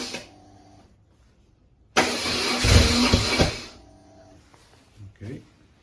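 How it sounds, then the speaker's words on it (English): BMW R1100 RT motorcycle engine idling quietly, then one sharp throttle blip rises to a loud roar for about a second and a half before settling, followed by a couple of small revs. "Just gonna blip the throttle if I can."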